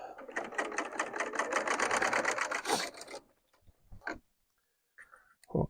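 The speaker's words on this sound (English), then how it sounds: "we'll just sew all the way down. We'll sew off." A serger stitches strips of fabric for a wonky log cabin quilt block, running in a fast rapid chatter for about three seconds before stopping, followed by a few quiet handling clicks.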